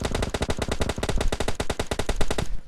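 Rapid automatic gunfire in a battle royale video game, a dense, continuous stream of loud shots lasting a few seconds before cutting off, with no voices over it.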